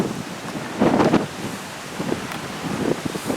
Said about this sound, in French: je ne vais pas pouvoir filmer vu le vent et vu le dévers